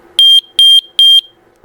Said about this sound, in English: if you push and hold that button, this will beep